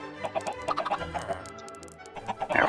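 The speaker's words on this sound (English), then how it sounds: "Looks like about 9 adult chickens on the inside and at least 1 baby." Minecraft chickens on an automatic chicken farm cluck repeatedly in short, overlapping bursts, a group of about nine adults and a chick, heard close and moderately loud without any talking.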